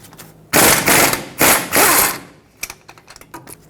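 Ratchet working loose a pair of 21mm brake caliper bracket bolts on a Chevrolet Colorado front knuckle: two loud bursts of rapid clicking, then scattered lighter taps and clinks.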